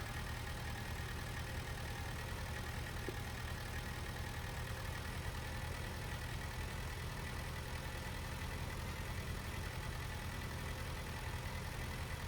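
A Ford 6810 tractor engine in Farming Simulator 19 runs at a steady, continuous drone with no break, heard alone at a low level.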